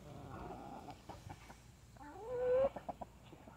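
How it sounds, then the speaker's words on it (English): A young hen clucks in short, irregular calls, ending in a rising, drawn-out squawk, with faint rustling and outdoor background noise. "That's one of the new hens."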